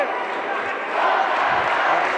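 An arena crowd at a WGP Kickboxing fight in a Piracicaba gymnasium roars steadily in support of Felipe Micheletti, a dense continuous cheer and chanting that swells slightly midway.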